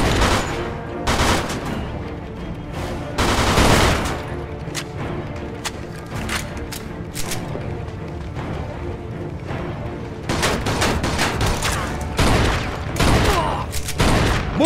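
MG42 machine gun fire in the video game Mafia 2, loud, dense rattling bursts of rapid shots with brief gaps, mixed with other gunfire and clattering through an intense firefight.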